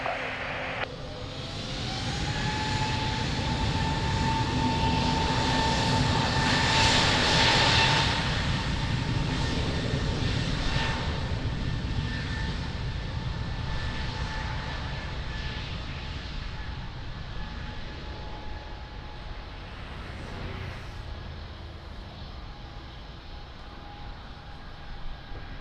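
Airliner taking off from runway 02 at Lisbon Airport, a steady loud jet engine roar with a rising whine that swells and then slowly fades as the aircraft departs, no talk.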